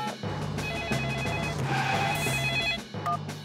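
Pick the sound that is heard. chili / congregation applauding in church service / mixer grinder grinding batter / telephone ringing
telephone ringing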